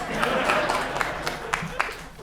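Audience applause at a SXSW comedy show, a steady wash of many hands clapping across the room, with a few sharper individual claps standing out as it gradually thins.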